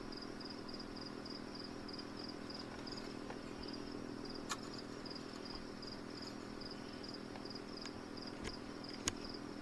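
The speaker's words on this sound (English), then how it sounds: "A lot of bugs out tonight." Crickets and other insects trill steadily in the night outdoors, a faint continuous pulsing chirp over a low background drone, with a few scattered clicks.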